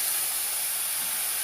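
Banana flower dropped into a hot pan, giving a steady, even sizzling hiss that holds at the same level for a moment, close by and with no talk over it.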